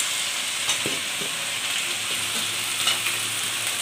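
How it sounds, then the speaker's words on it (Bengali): Mutton going into onions already frying in a kadai for Bengali mutton kosha gives a steady, close sizzle with scraping stir noises and small crackles throughout, no voices. "এবার মাটনটাকে এর ভিতর দিয়ে দিতে হবে।"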